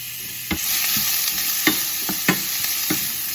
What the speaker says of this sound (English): We're gonna add in our onion and carrot.